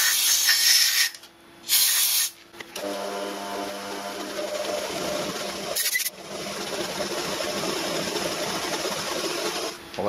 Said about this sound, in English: so we can get on with this reaming